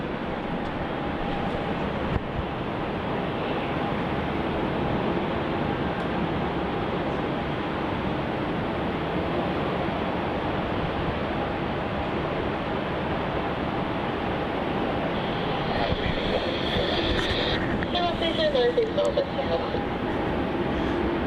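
A Singapore Airlines jet airliner on flight SQ227 from Singapore arrives at Melbourne Airport at night, a steady broad engine roar holding throughout with a rising whine near the end.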